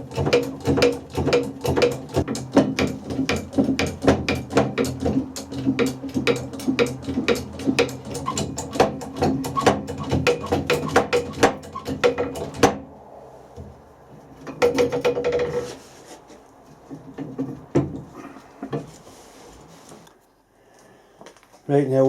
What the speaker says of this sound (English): Quite a reasonable amount of force to push the brooch through.